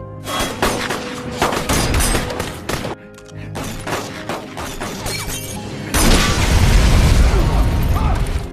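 Gunfire in a film action scene, a rapid volley of loud sharp shots and crashing impacts with booming thuds, briefly easing before a dense burst of blasts and rumble near the end.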